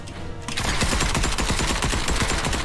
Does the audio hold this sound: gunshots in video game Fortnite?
yes